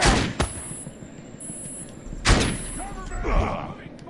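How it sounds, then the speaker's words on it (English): Gunfire in the sci-fi shooter Defiance 2050: three sharp reports spaced about two seconds apart, the loudest in the middle, among game noise and combat chatter, with voices talking in between. "I'm taking fire!"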